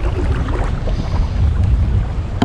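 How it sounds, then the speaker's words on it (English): Strong wind buffeting outdoors by the water while bass fishing from a boat near rocks, a loud, constant rumbling gust with no talk. "Instead of fighting this wind."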